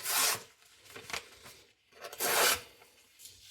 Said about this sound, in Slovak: A teraz vidíte, že ten papier reže pekne.